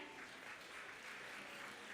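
Crowd applause at a college annual day celebration, faint and distant, a steady wash of many hands clapping without voices.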